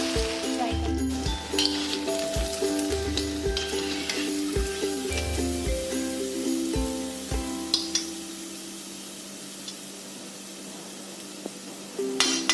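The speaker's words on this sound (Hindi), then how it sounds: "मीडियम आंच पे इस तरीके से इसको फ्राई करें।" Mixed vegetable pakoras deep-frying in oil over medium heat, a dense continuous sizzle under a low rhythmic hum that fades partway, with occasional clinks and no speech.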